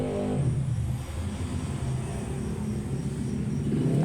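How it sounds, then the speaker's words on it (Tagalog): Roadside traffic with motorcycles passing by: a continuous low rumbling drone of engines, fairly loud and steady throughout, with no voices on top. "Napakaingay po ng mga motorcycle dito sa tabing karsada po kasi kami."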